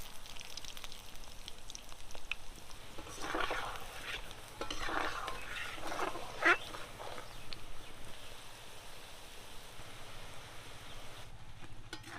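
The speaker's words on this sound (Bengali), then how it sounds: "পাঁচ থেকে ছয় মিনিট ভেজে নিয়েছি এখন নামিয়ে নেব" Egg pakoras frying in hot oil in a village-style kitchen, a steady soft sizzle with brief stirring scrapes, continuous and close, with no voices.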